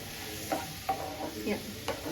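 A spatula scrapes and stirs potatoes frying with chilli powder in a pan, with four or five distinct strokes over a steady low sizzle, heard close up.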